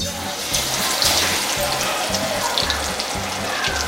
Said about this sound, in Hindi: ये देखिए फ्रेंड, चिकन हमारा फ्राई होने लग गया है